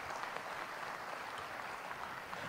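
Audience clapping at a school graduation ceremony, a steady, even wash of applause from many hands throughout, with no voices over it.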